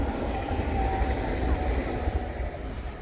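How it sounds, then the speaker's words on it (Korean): A train passes along the railway at Sunmaewon in Wondong, Yangsan, a continuous low rumble and rolling rail noise holding steady at close range before easing off slightly toward the end. "지금 기차 지나갑니다"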